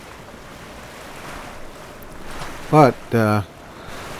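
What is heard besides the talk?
waves and wind at sea in Sailaway III sailing video game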